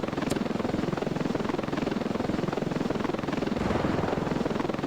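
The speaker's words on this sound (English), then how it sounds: "there goes down my helicopter" Helicopter in a video game, rotor chopping in a steady loud pulse throughout as the aircraft goes down, with a dense engine roar filling the whole stretch.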